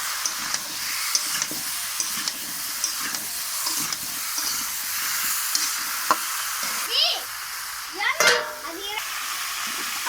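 Potatoes sautéing with spices in a pan for a rui fish curry with lau shak, a steady close sizzle broken by intermittent scraping stirs and a couple of louder clatters near the end.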